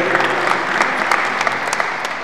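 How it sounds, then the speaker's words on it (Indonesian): A church congregation claps steadily, a dense, even wash of applause from many hands close by and continuing throughout. "Tepuk tangan yang meriah bagi Tuhan Yesus."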